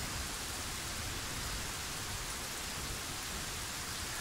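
Steady rain pours in the Operation Trebuchet video game, a dense, even hiss of falling water with no breaks, heard alone at moderate loudness.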